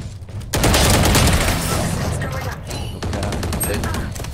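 Bursts of video-game gunfire and a rocket launcher blast, a sudden loud boom followed by rapid rattling shots, close and dense, with brief voices mixed in.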